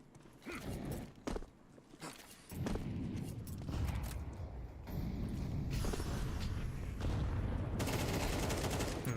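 Gunfire rattles through a Counter-Strike match, with scattered single shots and clicks early on, then a sustained barrage of rapid automatic fire amid footsteps and mechanical handling noises, fairly close and continuous.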